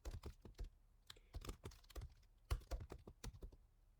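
A git command is typed on a computer keyboard, the keys clicking in quick irregular bursts, quiet and close, with no voice.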